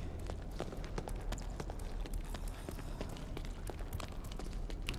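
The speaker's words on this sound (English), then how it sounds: "I hear footsteps, I think" Quick, faint footsteps in the video game Colina: Legacy, a steady run of light thuds under low background ambience.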